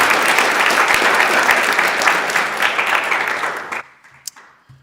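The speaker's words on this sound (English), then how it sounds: "give him a round of applause" A Senate chamber fills with sustained, dense applause from many hands at close range, which stops abruptly near the end, leaving a brief quiet with a single faint knock.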